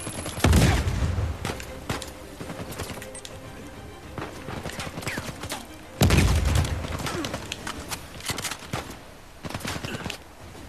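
Gunfire in the video game Uncharted 4: two loud bursts of shots a few seconds apart, with scattered quieter cracks and clatter between them and a faint voice now and then.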